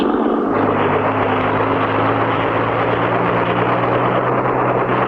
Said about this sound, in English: It worked, Clutch! We're flying! Just like a helicopter, Spinner.